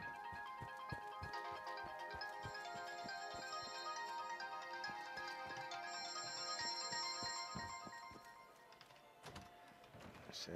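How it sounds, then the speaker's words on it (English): A phone ringing inside the game Fallout 76, a faint repeating electronic ringtone that carries on for several seconds under clattering, tapping game sounds. "I can hear my phone going"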